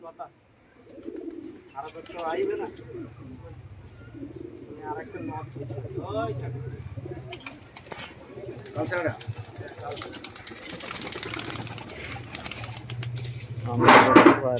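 Andhra pigeons, a flying breed kept in a loft, coo in low steady murmurs throughout while someone talks nearby, with brief rustling and a louder burst near the end.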